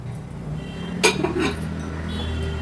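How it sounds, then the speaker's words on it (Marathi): Finely chopped coriander is tipped into a bowl, heard as a few close clinks and scrapes of a utensil against the dish over a quiet kitchen background. "ती ह्या बोलमध्ये मी काढून घेते"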